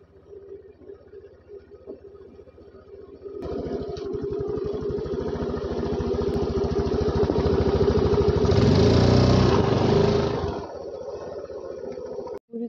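A motorcycle starts on its kick-starter and then runs steadily, its engine note loud and close and swelling briefly before easing back to a steady idle, with no talking.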